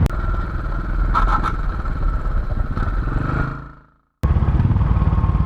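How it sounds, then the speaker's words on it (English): A 2019 Royal Enfield Classic Chrome 500 rides on with its engine droning steadily while the rear brake lever scrapes along the road; the noise fades to silence, then the engine returns abruptly and loudly. "Now that's me scraping the rear brake lever, which isn't a particularly pleasant feeling."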